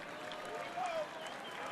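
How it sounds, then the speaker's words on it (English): A sellout crowd at Ed Smith Stadium during a spring training baseball game between the Yankees and Orioles gives a short burst of distant applause and cheering, a steady wash of crowd noise lasting under two seconds. "And some cheers coming from this sellout crowd here at Ed Smith Stadium."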